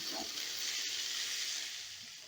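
Chopped vegetables including beans sizzle and hiss steadily in a hot pan as they are stirred and softened, with a soft scrape partway through and the frying noise easing slightly at the end.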